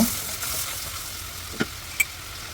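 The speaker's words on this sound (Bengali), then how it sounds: "মশলাটাকে ভালো করে কষিয়ে নেব" Spice paste with chili powder frying in oil, a close, steady hissing sizzle with a couple of brief clicks from a stirring spoon.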